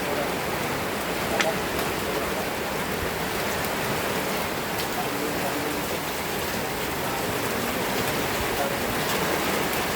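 Heavy rain pours down steadily in a dense, continuous hiss, loud and close, with a few sharper drop impacts and faint voices under it.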